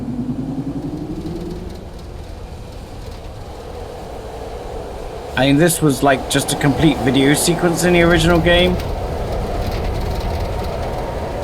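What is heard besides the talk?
train ride in the video game Riven remaster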